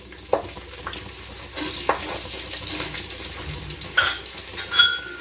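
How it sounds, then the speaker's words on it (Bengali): Green chillies and whole dried red chillies drop into hot oil for tempering, giving a soft crackling sizzle with several sharp clinks and scrapes of a spoon against the pan, close up and without speech. "এই কাঁচা লঙ্কা আর গোটা শুকনো লঙ্কা ফোড়নে দিয়ে দেব।"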